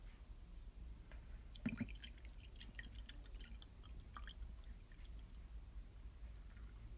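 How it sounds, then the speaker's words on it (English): Coffee poured through a stainless steel strainer resting on top of a cup, heard as a soft, close trickle with scattered drips over a low steady background, no talking. "it just rests on top of the cup, and we're just going to pour it right in there"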